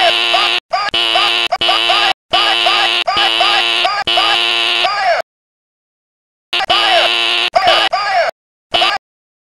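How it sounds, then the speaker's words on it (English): School fire alarm pulled as a prank, blaring in loud bursts of harsh buzzing tone with repeated warbling sweeps, cutting off abruptly for a few seconds before sounding again. "a student must have pulled the fire alarm"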